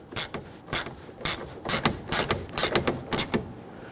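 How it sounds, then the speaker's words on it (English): Bolt being spun on a 2011-2015 Kia Sorento rear exterior door handle while the rest of the handle is pulled out, giving about nine evenly spaced sharp ratcheting clicks, close and fairly loud, with no talking. "Now what I'm doing is I'm spinning the bolt, but I'm pulling the remainder of the handle out"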